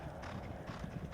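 Horses at Churchill Downs clip-clop behind the scenes, hooves striking in a quick, uneven rhythm at moderate distance over a low background murmur.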